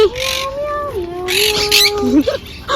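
Cat meowing in a clear, drawn-out wavering call that rises and bends, followed by a shorter second meow, close and fairly loud over background noise with faint voices in a campus setting in Barcelona.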